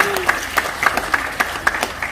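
Scattered applause from a seminar audience after a presenter invites them to clap for themselves, with sparse individual claps over a room murmur and voices under it.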